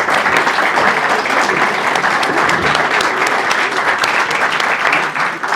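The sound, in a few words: audience applause at a book presentation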